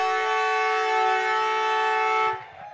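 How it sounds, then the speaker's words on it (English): A loud, sustained tonal siren sounds the end of an Australian football semi-final match, holding steady for over two seconds before cutting off, leaving faint crowd noise behind. "And it's the final siren has sounded."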